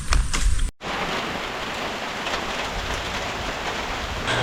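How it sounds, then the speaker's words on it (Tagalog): Sudden rain pours down after a hot day, a loud, dense, continuous hiss of rainfall on surfaces that runs steadily after a brief cut near the start. "Ulan na naman, mainit kanina, biglang umulan."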